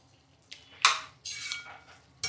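A ridge gourd curry is stirred in a pan, with a few distinct scraping and clinking strokes of a spoon against the metal and quiet pauses between them.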